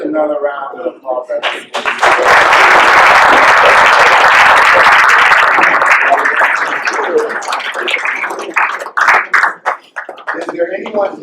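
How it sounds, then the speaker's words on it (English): Audience applause fills a hall at a Black History celebration in Richmond Heights, Missouri, swelling into loud sustained clapping for several seconds, then thinning into scattered claps as a voice resumes speaking. "Just another round of applause."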